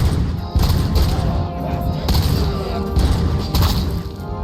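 Robots blowing apart under gunfire in the RoboCop: Rogue City video game, a dense run of booming blasts and thuds with several sharp bursts, loud and continuous with some voice mixed in.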